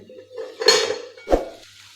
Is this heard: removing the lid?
yes